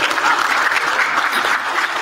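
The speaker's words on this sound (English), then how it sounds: "Pause for appreciative applause." A live convention audience at a gaming podcast panel breaks into brief, hearty applause, a dense burst of clapping that stays strong and even across the moment.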